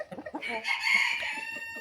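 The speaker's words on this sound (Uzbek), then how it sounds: "Endi xo'roz bo'lib qichqirdi." A young rooster hatched around August crows once, a close, loud and slightly rough call that swells and holds for about a second before trailing off, with no talk over it.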